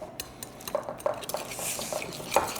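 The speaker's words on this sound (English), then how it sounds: "So I'm just going to take my whisk" A whisk blending a mustard mixture in a bowl for a chicken cordon bleu casserole, quick rhythmic clinking taps of wire against the bowl, close and fairly soft, with no voice.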